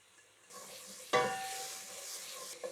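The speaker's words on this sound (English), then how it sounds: "Then we add our crushed garlic." Crushed garlic goes into a hot pan with parsley and ground ginger, set off by a sudden bright sizzle that settles into a steady hiss, with a faint clink near the end.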